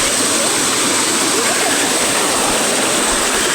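Creek water flows in a steady, broadband rush, close and continuous for a few seconds with no voices over it.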